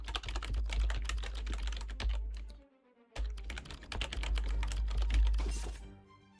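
Fast, steady clatter of keys on a computer keyboard during a typing dungeon-crawler game, dense keystrokes running continuously with one short pause midway, close and clear with no talking.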